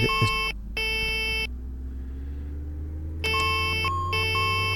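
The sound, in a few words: cockpit alarm beeping in a flight simulator video game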